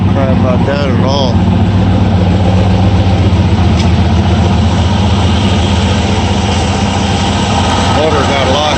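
A 1960 Ford F100 engine idles steadily up close after a carburetor rebuild, a continuous low rumble with a slight miss, while people talk over it.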